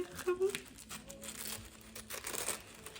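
Someone crinkles and tears plastic packaging while opening a parcel, giving short, close rustling bursts under a quiet voice talking.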